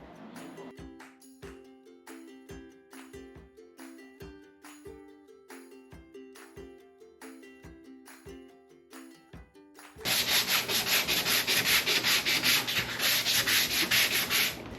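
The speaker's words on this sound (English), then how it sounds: "Time to assume the sanding position." Steady hand sanding of a 1987 Jeep Wrangler body: rhythmic rasping strokes on a hard panel, first slower and distinct, then shifting to a louder, faster, continuous scrubbing near the end.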